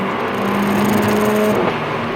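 A Mercedes-AMG A45 engine held at high revs under acceleration, a loud steady droning whine that drops as the transmission upshifts on its own near the limiter.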